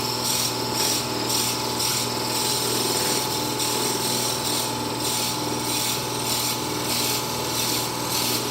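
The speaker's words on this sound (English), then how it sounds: "I've got my pin chuck in, and I'm just drilling the center hole." A pin chuck drills the center hole of a pen blank, giving a loud, steady mechanical whir with a rough, rasping texture and a faint pulsing rhythm. It runs close and continuous, with no talk.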